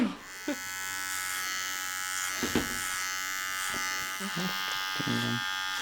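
An electric hair clipper with a guide attachment cuts hair, giving a steady close buzz throughout that shifts slightly in pitch as it bites, with voices talking over it.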